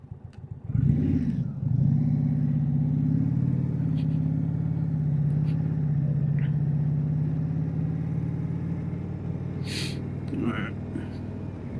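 An Indian motorcycle rides along with a steady engine drone, its stock exhaust giving a small backfire pop as the throttle comes off; a rider speaks briefly over the engine.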